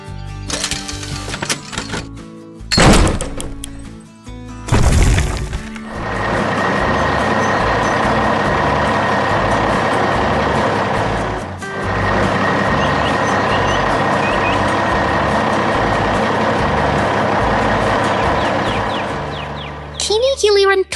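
Construction trucks and an excavator hauling rocks and debris, a steady loud engine drone with machinery clatter and bursts of noise, a reversing beep pattern near the end.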